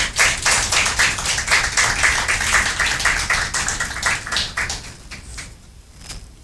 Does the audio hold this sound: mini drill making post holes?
no